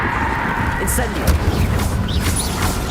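Bursts of a fire spell cast in Hogwarts Legacy crackle and whoosh in short flares amid other spell effects and game sounds, with a voice chanting spell names over them.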